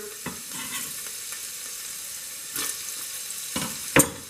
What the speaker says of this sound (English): now it is indeed time to add our onions to the mixture